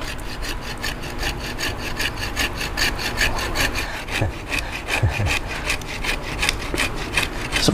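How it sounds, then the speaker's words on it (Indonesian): A small hand saw cuts through wood in quick, regular back-and-forth strokes, each pass a sharp rasping scrape, steady and close up with no voices. "Kita pakai gergaji kecil saya nih."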